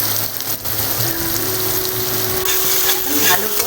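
Green chilli and garlic paste fries with a little water in a pan, making a loud, dense, continuous sizzle and bubbling hiss up close, with a faint hum underneath.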